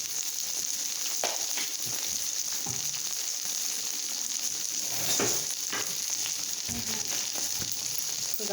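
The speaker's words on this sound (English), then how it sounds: "Now as that's going, I'm going to add a little bit of peppers and a little bit of mushrooms." Peppers and mushrooms frying in a pan for a Philly cheesesteak, a steady close sizzle with a few stirring clicks and scrapes, no voices.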